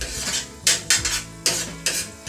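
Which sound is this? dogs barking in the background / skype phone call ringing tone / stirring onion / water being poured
stirring onion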